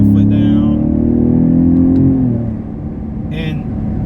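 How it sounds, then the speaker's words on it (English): A 2017 Ford Raptor pickup truck accelerating hard after a downshift to third gear: a loud, close engine drone that climbs steadily, then eases into a lower rumble. "let's go ahead and go down to 3rd, put our foot down"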